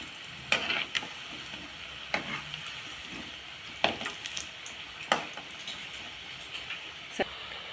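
Elephant foot yam vadai fry in coconut oil with a faint, steady sizzle, broken by a few sharp scraping and clinking sounds from handling in the pan.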